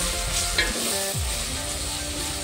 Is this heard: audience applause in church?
no